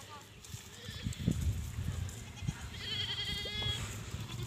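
Goats bleating on a farm pen, a wavering high bleat standing out near the end over rustling, handling noises and nearby talk.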